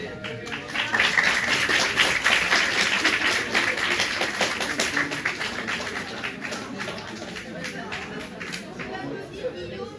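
Applause from a class of Terminale students, a loud, rapid burst of many hands clapping that swells early and gradually thins, with chatter and voices mixed in.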